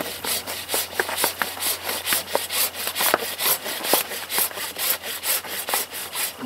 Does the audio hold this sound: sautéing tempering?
no